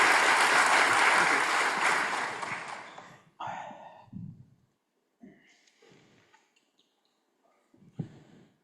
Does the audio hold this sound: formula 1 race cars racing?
no